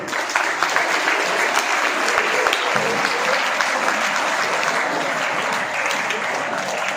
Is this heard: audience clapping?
yes